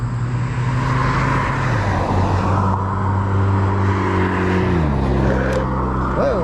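Road traffic rolls past a dual-motor all-wheel-drive e-bike on a quiet road, with cars passing close in a continuous engine and tyre roar and a drop in pitch as one goes by; a voice talks briefly.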